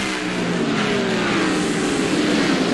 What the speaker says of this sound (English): Watch Jeremy Mayfield as he goes up the racetrack, up against the wall. Watch Jeff Burton right on the bottom of the racetrack.